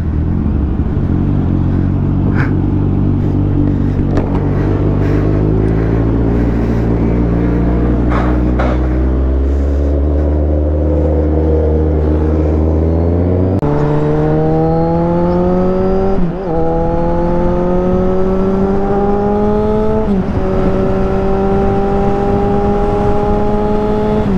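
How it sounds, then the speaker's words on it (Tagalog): Kawasaki Z1000R motorcycle exhaust on a test ride during a Clark breakfast ride: a loud, steady engine drone climbs in pitch through several revving pulls, dropping briefly at each gear shift. "Oh, lakas ng tambutso."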